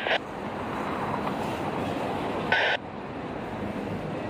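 A passing train gives a steady, loud rumble with a continuous wash of rail noise, and short bright squeals break in near the start and again about halfway through.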